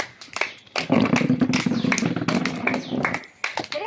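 Hands clap in quick, uneven bursts at a small family function at home, close and fairly loud, mixed with people's voices.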